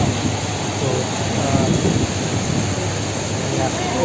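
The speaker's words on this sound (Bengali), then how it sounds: "অবাক লাগে যে বৃষ্টিতে এত পরিমাণ পানি হচ্ছে" Heavy monsoon rain pours steadily over a flooded Dhaka street, a loud, continuous wash of water close by, while someone talks over it.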